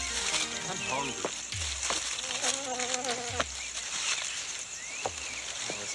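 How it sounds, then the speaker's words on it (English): Mosquitoes and other insects whine and buzz steadily in a swampy place, a thin high drone with passing swoops close to the ear, while a voice speaks underneath. "this place is full of mosquitoes"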